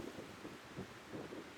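Strong wind gusts across an outdoor disc golf course, a steady rushing roar with buffeting surges on the microphone and no voices.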